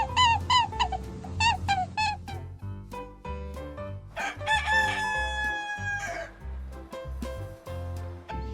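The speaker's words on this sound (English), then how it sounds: "Chicken are birds that cannot fly but can glide away from predators." A rooster crows repeatedly, loud and close, several full cock-a-doodle-doo calls in a row with clucking and farmyard noise between them, no speech.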